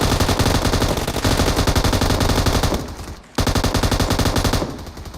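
Dense automatic gunfire from PUBG Mobile rattles nearly continuously, loud and close, with one short break of about half a second before the bursts resume.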